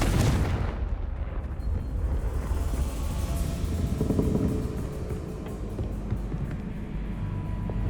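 A Confringo blasting curse explodes in Hogwarts Legacy during a haunted Hogsmeade quest, a loud close blast followed by a sustained roaring rumble and crackle that lingers steadily.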